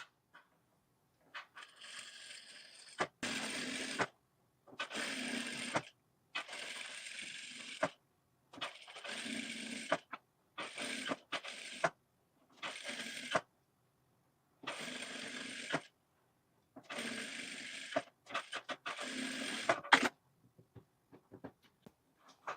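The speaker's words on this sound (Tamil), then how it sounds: "இப்போ அந்த கழுத்தை சுற்றியுமே அப்படியே தையல் போட்டுக்குங்க." Domestic sewing machine stitching around the back neck of a designer blouse, running in about ten short bursts separated by brief pauses, close and steady with no talking.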